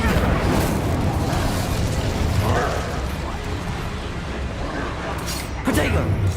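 An Incendio fire spell goes off in Hogwarts Legacy, a loud, steady whoosh of roaring flame with a sharper burst near the end.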